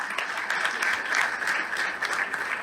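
Enthusiastic applause rises from a crowd at an RCM business event in Noida, a continuous moderately loud patter of many hands clapping with no voices over it.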